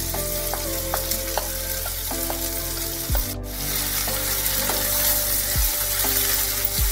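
Capsicum, onion, tomato and peanuts hit hot oil and sizzle steadily, a dense continuous frying hiss with occasional clinks and stirring scrapes from the pan, close and alone with no talk.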